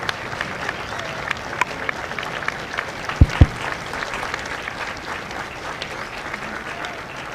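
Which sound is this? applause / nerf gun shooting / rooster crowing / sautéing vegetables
applause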